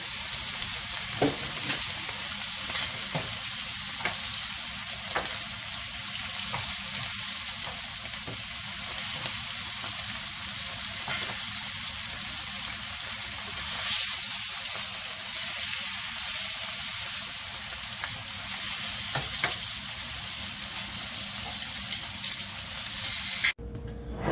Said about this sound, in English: we have a beautiful sear on our steak